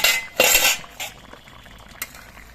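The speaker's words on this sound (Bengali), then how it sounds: "দু তিন মিনিট পর আমি কড়াইয়ের ঢাকনাটা খুলে নিচ্ছি" A lid is lifted off a wok of simmering puti fish curry. Metallic clatter and clinks come close and loud near the start, with a few lighter knocks and a sharp clink later, then quieter kitchen sounds.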